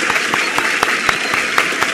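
A studio audience on a Tunisian talk show claps in steady, dense applause that keeps an even level for two seconds, with sharp hand claps standing out in the wash.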